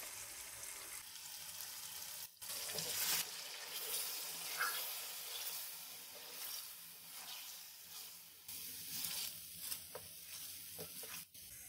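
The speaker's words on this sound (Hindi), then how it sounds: "अब हम इसमें 1 पाव दही ऐड करेंगे। दही को हमने अच्छे से फेंट लिया है।" Beaten yogurt goes into karahi meat frying in a pot, setting off a steady sizzle with stirring and scraping, loud and close, with no one speaking.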